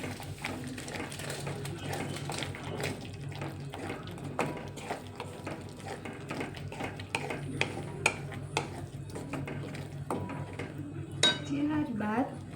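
Boiled corn kernels being stirred into a gravy in a metal pan, with repeated scraping and clinking of a spoon against the pan in an irregular rhythm, close but fairly soft, with no talking.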